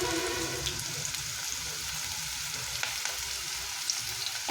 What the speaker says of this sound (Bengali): আমি এখানে পেঁয়াজিগুলো ভাজবার জন্য কড়াতে বেশ কিছুটা পরিমাণ সরষের তেল গরম করে নিয়েছি